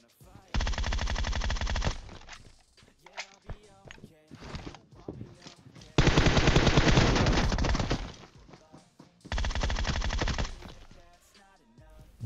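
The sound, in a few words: gunfire in PUBG Mobile video game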